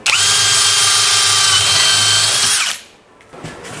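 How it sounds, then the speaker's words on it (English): A power drill whines loudly at high speed, boring a hole for a fastener in metal line work, running steadily for under three seconds before stopping abruptly, followed by faint handling noises. "Drill a hole for the fastener."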